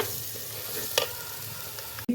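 Turmeric and ground spice paste are stirred into chicken in a hot pan, a soft frying sizzle broken by a couple of sharp utensil knocks, close and brief with no speech.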